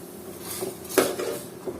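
Cut pointed gourd and potato pieces tipped into a metal pot, a few close clinks and knocks of metal with one sharper clatter near the middle, no talking.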